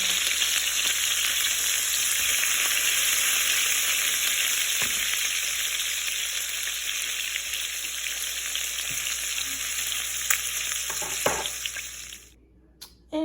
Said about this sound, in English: Mix them up and drop them in the grease, okay?